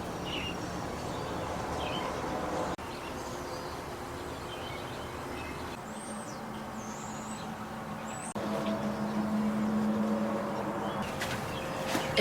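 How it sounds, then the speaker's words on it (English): Birds chirp and call in short, scattered phrases over a steady hum of city traffic and distant engines on a city morning, the bird calls fairly faint and intermittent. "It's actually a really loud morning with birds."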